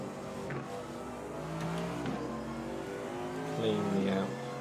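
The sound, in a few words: race car approaching in video game iRacing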